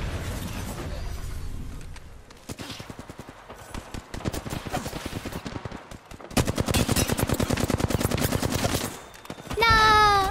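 Rapid bursts of Scout rifle fire from the Apex Legends video game ring out loud and close in dense volleys throughout, with brief pauses between flurries of shots.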